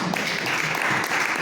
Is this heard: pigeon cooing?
no